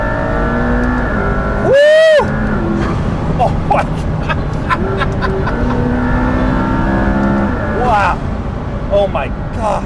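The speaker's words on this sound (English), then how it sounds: "This car sounds more like a sport bike, super bike than anything that I've ever driven before." A McLaren P1 supercar engine revs hard as it accelerates, a loud rising whine sweeping up through the gears and sitting under excited exclamations from people inside the car.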